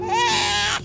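An infant gives one short, loud, wavering cry that rises and then cuts off, heard alone and close.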